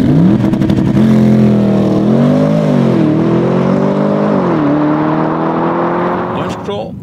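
A Porsche with automatic gearbox and Sport Chrono package launches hard, its engine roaring loud and close as it climbs through rising revs with brief dips at gear changes, easing off at the end.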